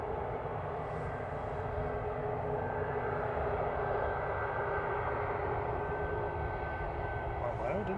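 A Pilatus PC-12 turboprop passes near Manchester Airport with a continuous, steady engine drone and broad roar lasting several seconds, with voices faintly beneath it.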